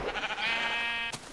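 A sheep bleats in the Minecraft video game, one drawn-out wavering bleat that stays close and clear, then ends in a brief burst of noise.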